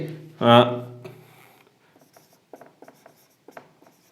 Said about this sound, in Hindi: तो यहाँ पर लिखेंगे हम, इसमें लिखेंगे